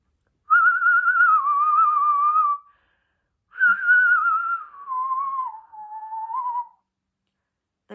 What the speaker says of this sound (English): There was a slight trill to it, as if someone were whistling and blowing bubbles at the same time